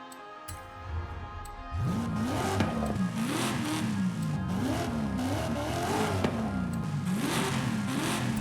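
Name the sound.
truck engine revving through exhaust in Forza Horizon 5 video game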